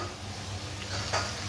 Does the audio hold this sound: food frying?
yes